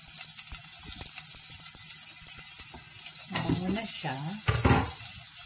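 Chopped onion hitting hot oil in a pan sizzles as a steady hiss through the clip, with a few light utensil clicks and someone talking near the end while home-cooking chicken wings with vegetables.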